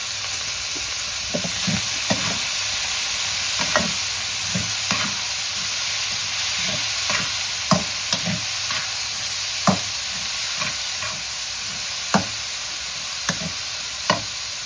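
Bean sprouts stir-fry in a hot pan, a constant close sizzle punctuated by repeated scraping and tossing clanks from the spatula at an uneven rhythm.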